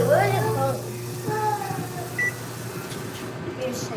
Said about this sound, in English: my husband wants to microwave popcorn right now while I'm on live